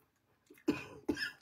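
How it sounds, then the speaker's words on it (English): Two short, sharp coughs close by, separated by a brief pause after a quiet breath. "And now here goes the cough."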